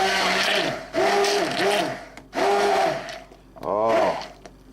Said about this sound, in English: I do like to puree this up.